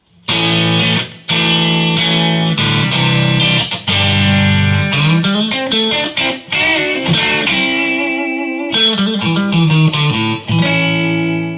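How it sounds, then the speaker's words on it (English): A distorted electric guitar, a Harley Benton TE-70 Telecaster with Fender Texas Special pickups, both pickups on, plays chords and riffs, loud and sustained, with sharp rhythmic stops between phrases and a thick, full tone. "So this is the sound with both pickups, with the switch in the middle position."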